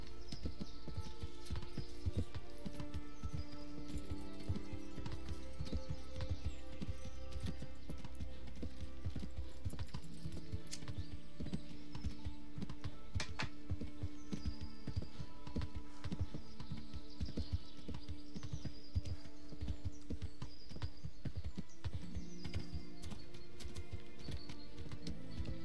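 Horse hooves clip-clop steadily at a slow gait in Kingdom Come: Deliverance, mixed under continuous background music for the whole stretch, with occasional faint whinnies.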